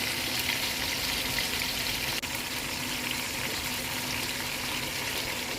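Onions fry in a pan for fish adobo, a steady, even sizzle and crackle that fills the whole stretch at moderate level with no talking.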